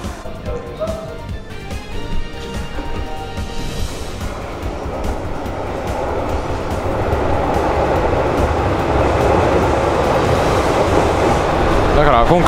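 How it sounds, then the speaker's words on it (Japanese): The three-car JR Shikoku limited express Nampu, bound for Kochi, rumbles along the rails, its roar building steadily louder with rhythmic clatter, heard from on board; a voice speaks briefly early on. "高知行きの特急列車南風号です。"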